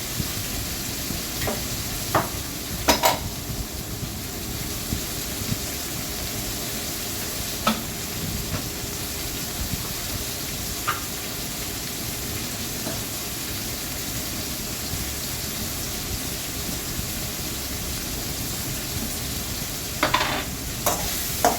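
Onions and tomatoes sautéing in a pan for chicken gravy make a steady, moderate sizzle across the whole stretch, with a few sharp clicks of stirring scattered through it and no talk.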